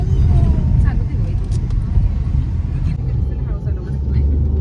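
A car driven fast on an Indian road gives a loud, steady low road-and-engine rumble that holds throughout, heard from inside the vehicle.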